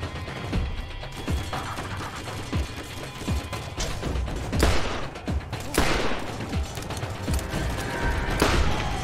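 Gunfire in Borderlands, a dense fusillade of shots and impacts with crashes and thuds over a busy game soundscape, loud and continuous, with brief talk in places.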